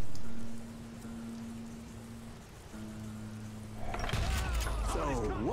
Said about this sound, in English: Ooh, raining, weather effects.